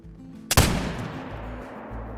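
A single loud muzzleloader rifle shot booms in theHunter: Call of the Wild hunting game, a sharp close blast followed by a long, fading rumble against quiet outdoor ambience.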